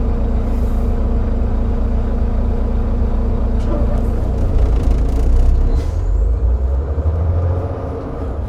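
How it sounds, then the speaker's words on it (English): A truck pulls to a stop on the road and its air brakes release in a loud hiss over a steady, heavy engine rumble, with some talking nearby. "Truck stopping there."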